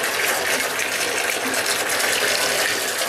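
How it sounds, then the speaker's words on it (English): Bath tap pouring onto a crumbled Lush bubble bar in a filling tub, a steady, loud gushing rush of water that continues without pause and with no talking over it. "we're just supposed to crush this up under the running water"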